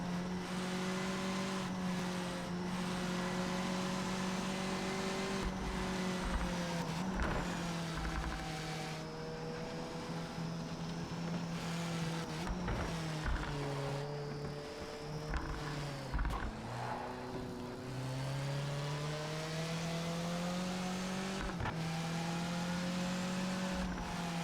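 Race car engine in the Project Motor Racing video game, a steady loud droning roar that rises and falls with revs and gear shifts throughout, with no talking.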